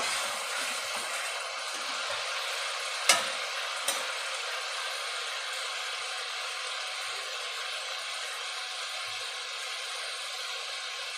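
Spice masala for spicy fried Amodi fish frying in a pan, a steady soft broadband sizzle throughout with two brief sharp clicks of stirring near the start.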